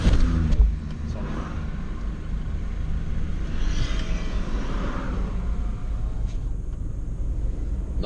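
Inside the cabin of a moving 2017 Isuzu MU-X Type S, the diesel engine drones as a low, steady rumble, mixed with road and wind noise at a constant level.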